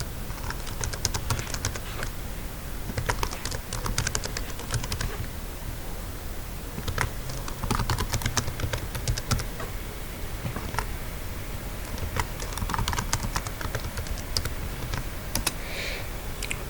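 Details being typed on a computer keyboard, a steady stream of rapid close key clicks with a few short pauses, continuous throughout with no talking.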